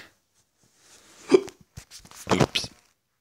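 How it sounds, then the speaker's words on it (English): Cartoonish hiccup sound effects from the video game Legend of the Brofist: a few short, sharp hiccups pop out of silence, the last ones coming in a quick cluster. "Hiccups."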